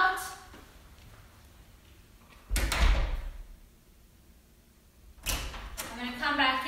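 Door opening and closing at a house as someone steps outside, a dog nearby; two separate thumping bursts a few seconds apart, the first a single thud, the second followed by rattling, with faint talk and low background in between.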